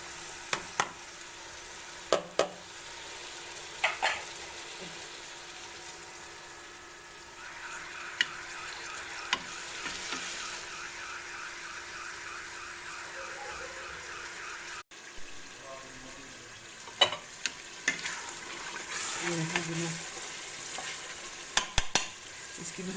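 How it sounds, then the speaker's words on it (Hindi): Meat and tomatoes fry and are stirred in a pan, a steady sizzle running throughout with repeated scraping and clinking of the spoon against the pan, plus brief watery splashes. "इसकी बुनाई कर रही हूँ अच्छे तरीके से।"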